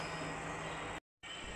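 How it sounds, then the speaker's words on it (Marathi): A train runs past fields behind the speaker, a steady faint rumbling rush with a brief gap of total silence midway before the same noise resumes. "माझ्या पाठीमागे ट्रेन चालली बघा."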